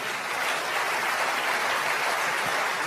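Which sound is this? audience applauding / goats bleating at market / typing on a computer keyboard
audience applauding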